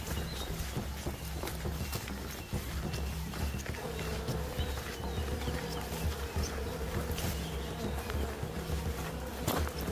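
Bees buzz around a hollow baobab trunk while a man climbs with a smoking branch, a dense continuous droning hum heard at moderate distance with scattered light knocks and rustles underneath.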